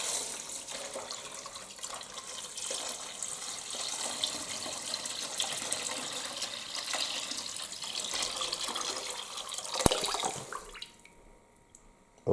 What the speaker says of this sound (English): And now we're going to add all of this water.